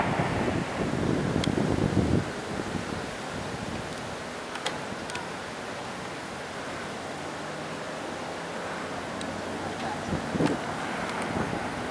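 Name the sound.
wind blowing strongly around a vertical wind turbine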